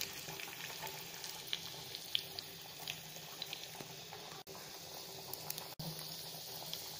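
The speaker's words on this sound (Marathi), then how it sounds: "सुरुवातीला लसूण टाकून घेतला, मग मोहरी टाकली, जिरे टाकले" Garlic, mustard seeds and cumin sizzle in hot oil for a tempering, a steady close crackling hiss dotted with small sharp pops, with no voices.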